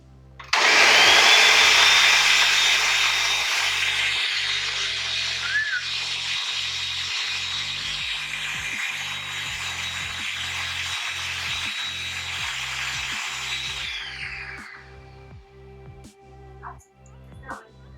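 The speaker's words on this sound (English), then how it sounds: "Put it in the blender, so we're gonna blend this." A kitchen blender purées boiled tomatillos for a sauce, its motor whirring loudly and steadily for about fifteen seconds before spinning down, with a few faint knocks at the end.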